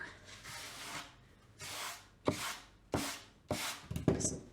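A sander is worked over new wood for a rustic weathered lake porch sign in a series of separate rasping strokes, about one a second. The passes grow sharper and closer toward the end.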